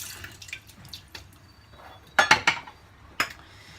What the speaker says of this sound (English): Gotta rinse this again, hold on.